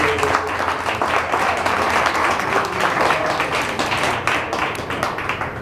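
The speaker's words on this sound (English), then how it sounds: "let's first just start with a round of applause for just all the amazing work and all the great" An audience applauds at a clean-electricity celebration in Washington, with dense, sustained clapping that stays steady and fairly loud for several seconds, with no speech over it.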